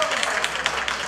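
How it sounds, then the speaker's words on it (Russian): Wedding guests clapping together during a party game, a dense, steady patter of many hands close by for a brief moment. "Аплодисменты."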